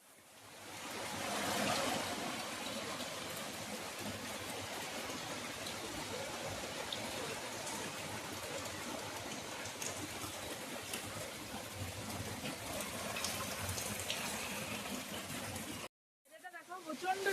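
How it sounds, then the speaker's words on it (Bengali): Heavy rain pours down steadily outside a village home, a dense continuous hiss that stays loud throughout and cuts off abruptly near the end. "দেখো প্রচন্ড বৃষ্টি হচ্ছে"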